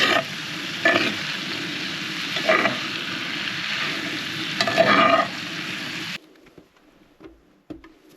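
Pinto beans and Uncle Ben's rice are stirred in a pan inside a mini camper on a rainy day, with a continuous frying hiss and a few scraping strokes for about six seconds before it drops to quiet with faint knocks.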